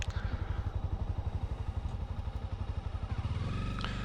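Honda CB300R motorcycle engine idling and pulsing steadily while it is shifted down into first gear, ending with a faint clunk near the end.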